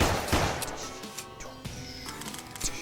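Video game shooting range gunfire, with several sharp shots cracking out at irregular intervals over a steady game background, fairly loud and close.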